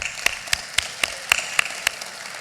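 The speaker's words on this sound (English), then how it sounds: "Oh, clap it up for Casa and Pulse." Audience clapping at a Spelman College student government forum, heard as a series of sharp, separate claps spaced about a quarter second apart over a quiet background, a sparse rather than full applause.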